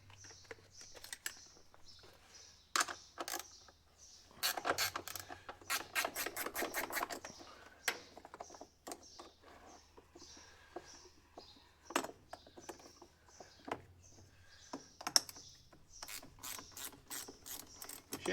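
A ratchet is spun by hand near a vehicle, giving loud bursts of fast clicking with pauses and scattered single clicks and clunks between them.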